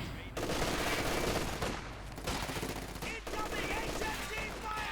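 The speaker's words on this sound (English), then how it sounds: "Obersoldaten here firing away." Obersoldaten infantry firing rifles and automatic weapons during a Company of Heroes 2 battle, with dense overlapping bursts of gunfire and battle noise throughout.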